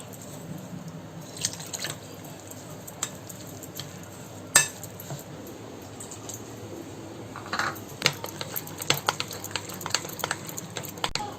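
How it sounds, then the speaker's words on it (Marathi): Dahi bhalla batter being stirred and mixed by hand in a bowl, with soft wet squishing and scraping strokes, a sharp clink near the middle, and a busier patch of quick taps and stirs toward the end. "आता इथे बॅटर आपलं मिक्स करून झालंय."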